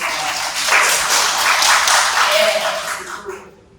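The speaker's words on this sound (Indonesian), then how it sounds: "Tepuk tangan." Brief burst of classroom applause during a religious education teaching practice lesson, dense clapping that holds steady and then cuts off abruptly.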